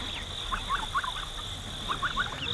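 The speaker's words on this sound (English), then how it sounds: "These African geese have quickly become at the top of our list of favorite animals here on the homestead" African geese on a homestead give short honking calls in two bursts of three or four, moderately close, over a steady high hum and faint low background rumble.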